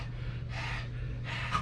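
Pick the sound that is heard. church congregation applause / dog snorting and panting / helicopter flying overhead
dog snorting and panting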